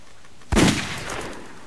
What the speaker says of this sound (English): with that bloody sniper rifle